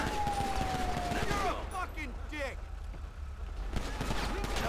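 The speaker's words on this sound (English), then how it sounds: "Why is everybody getting shot at?" Gunfire in the video game GTA V with the LSPDFR police mod, a dense fusillade of shots over a steady roar of game noise with a siren tone at the start, loud and continuous.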